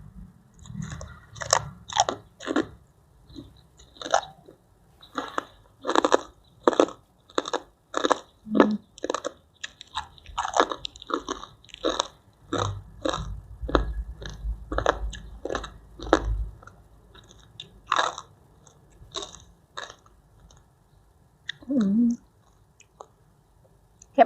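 Crispy pork crackling eaten alongside spicy papaya salad with fermented fish, heard as close, loud crunching bites and chewing in an irregular rhythm of sharp cracks, with no one speaking.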